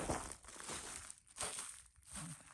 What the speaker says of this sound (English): And now you can hear the ice crunch.